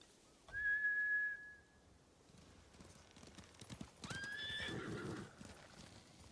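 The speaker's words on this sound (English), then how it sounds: "Bastards scared off the horses." Horses in the Ghost of Tsushima video game give a loud, shrill neigh near the start, then a second whinny with hoof clatter and a busy rumble a few seconds later.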